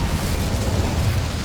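Incendio fire spell cast in the video game Hogwarts Legacy, heard as a steady rumbling burst of fiery roar with deep low rumble throughout, loud and close, with no talk.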